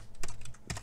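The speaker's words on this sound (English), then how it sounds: "And ignore how loud my keyboard is." A loud computer keyboard clatters in a quick burst of several keystrokes, close to the microphone, with no talking.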